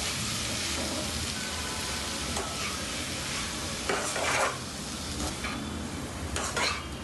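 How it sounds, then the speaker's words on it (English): Kande pohe, flattened rice with vegetables, stirred and mixed in a hot pan after a sprinkle of water, a continuous sizzling hiss with scraping stir strokes swelling now and then, close and steady. "and then we just need to mix this nicely"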